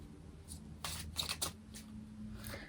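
Tarot cards being shuffled by hand, with several quick riffling bursts and soft slaps clustered near the middle, close and moderately loud over a steady low background hum.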